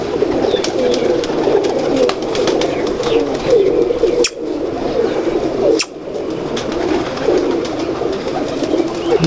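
Golden-ring pigeons cooing on a rooftop, a dense continuous chorus of soft throaty coos close by, with a couple of brief sharp clacks cutting through.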